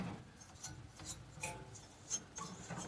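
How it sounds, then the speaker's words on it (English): Close, quiet rubbing and rasping as a small flame sensor rod from a gas fireplace pilot assembly is scrubbed clean, a series of short scraping strokes with a few sharper ticks, no talking. "So I'm just rubbing right on this piece that's directly in the flame to see if we can't clean it up a little bit."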